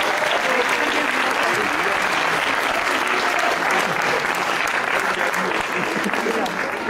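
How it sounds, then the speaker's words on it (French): Audience applause at a closing ceremony, dense and sustained clapping from a crowd that holds at an even, fairly loud level throughout, with voices mixed into the clatter. "on va faire applaudir au nom de Julien Belkalfa"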